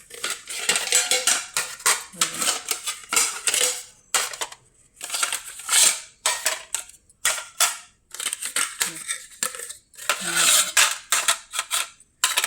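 Old, heavy aluminium stacking plates are handled and knocked together, producing repeated bright metallic clanks and rattles in irregular bursts with short pauses between, close and loud.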